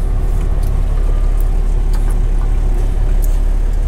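Semi truck on a US highway with a steady, loud low-frequency engine drone and road rumble throughout, heard from inside the cab with no talk.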